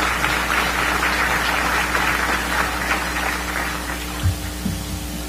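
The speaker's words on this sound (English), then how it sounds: "let's do the round of applause one more time for everybody" Sustained applause from a crowded audience at a Chicagoland Chamber of Commerce event, a dense, steady clatter of clapping over a low hum, easing slightly near the end.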